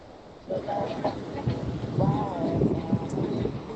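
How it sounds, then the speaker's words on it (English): Steady wind rumbles and buffets against the microphone while a person talks over it. "It's kind of windy."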